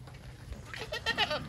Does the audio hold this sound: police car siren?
no